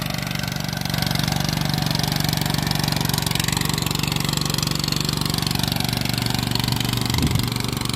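A small farm cultivator engine runs steadily with a constant low mechanical drone and continuous high rattling, close and loud throughout with no breaks.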